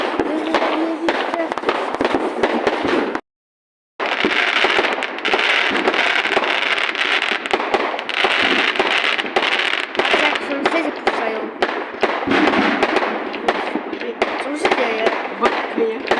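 Dense, continuous crackling and popping of New Year's fireworks going off nearby, loud throughout with a brief silent gap and voices mixed in.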